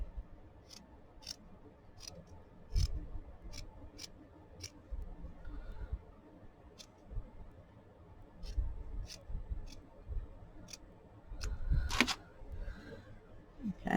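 Scissors cut out a piece of paper for a Christmas book page, a series of sharp, close snips in an irregular rhythm, with soft rustling and handling of the paper between them.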